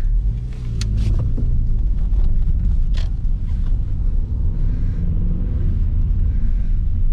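A 2005 Subaru Legacy's 2.5-litre flat boxer engine pulls hard under acceleration, a loud continuous low rumble heard from inside the car with occasional cabin creaks and no talking.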